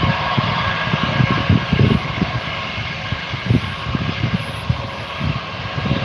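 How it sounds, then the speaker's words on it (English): A Jetstar airliner rolls out at Gold Coast airport, a steady broadband engine roar that holds at a loud, even level throughout, with low rumbling pulses underneath and no talk. "Jetstar 404 rolling out."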